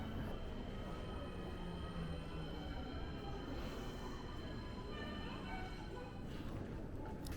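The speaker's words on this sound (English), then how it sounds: "I jumped on the train to the airport" Train to the airport in Fukuoka, a steady rolling rumble with faint rhythmic wheel clatter and high whine, heard from inside the carriage, moderately quiet and continuous.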